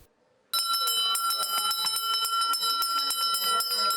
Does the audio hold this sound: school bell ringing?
yes